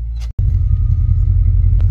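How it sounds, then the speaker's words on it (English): A car engine idles steadily after being started, a loud continuous low rumble with a faint high whine above it and a brief dropout near the start. "Okay, so car is started."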